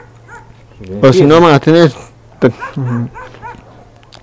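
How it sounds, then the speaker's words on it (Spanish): Neighbourhood dogs in a barrio bark and yip in short bursts while someone speaks Spanish over them, the barks close and fairly loud amid his talk. "este problema de los perros de aquí en el barrio es bastante complicado"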